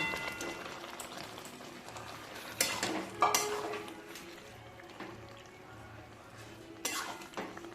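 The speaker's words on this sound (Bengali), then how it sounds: "কষানো হয়ে গেছে, এবার আমি সবজিগুলো এতে ঢেলে দেবো।" Mixed vegetables for Bengali bagan chorchori are tipped into a pan of spices fried with turmeric and green chilli paste, then stirred, with a few sharp clanks of utensil on metal over a soft cooking hiss.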